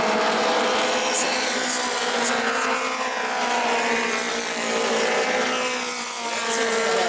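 Modified race cars roar around the New Smyrna oval during a Mod Mini 50 race, engines droning loudly and continuously with a steady pitch and slight swells as the field passes.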